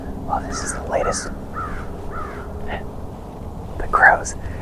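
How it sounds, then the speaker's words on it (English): Crows caw repeatedly in cool woods during a deer hunt, a run of harsh calls at a moderate distance with a louder burst near the end, while a person whispers softly underneath. "The crows."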